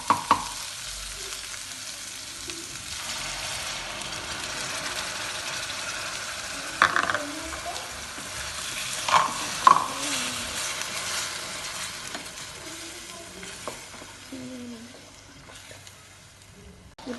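Ground tomato fries in a pan for pasta sauce, a soft steady sizzle broken by scraping stirs and a few sharper utensil knocks against the pan, with no speech.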